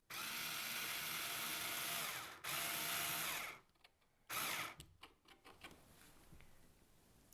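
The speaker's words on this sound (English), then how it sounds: "I'm going to screw it in place" A power screwdriver drives a screw into a wooden picture frame in two steady whirring bursts, close and loud, followed by a few short stuttering pulses and faint handling clicks as the screw is left slightly loose.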